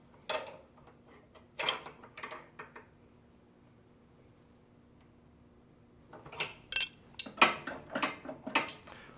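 Wrenches tightening J-hook hardware on a swivel loading ramp on a ProMaster van, with two bursts of metallic ratcheting clicks and clinks separated by a quiet pause, close and fairly faint.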